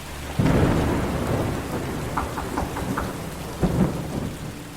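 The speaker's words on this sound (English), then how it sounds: "As I got out of the car, lightning lit up the sky. The trees making a jagged display through the rain." A thunderstorm with steady rain, heavy thunder rumbling near and loud at the start and again toward the end, with the hiss of rain constant underneath and no voices.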